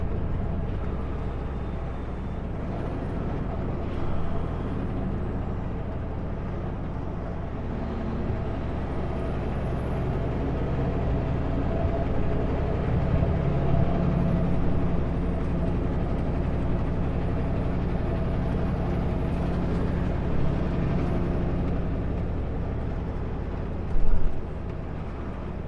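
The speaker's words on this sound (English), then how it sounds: "you always have traffic blasting in, stopping and running, using the washroom, and then back in their car and they roar away" Highway rest area traffic with trucks and cars arriving and pulling away, a continuous rumbling drone with a high air-brake hiss and a brief louder thump near the end, no talk.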